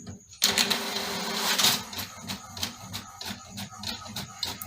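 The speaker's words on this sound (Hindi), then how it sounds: "फटाफट प्रिंट आउट निकल रहा है, आप देख सकते हैं मस्त प्रिंट आउट निकल रहा है।" An HP Wi-Fi 4178 printer feeds and prints a page, with a whirring mechanism start followed by a series of regular clicking, rattling passes, close and moderately loud, with no talking.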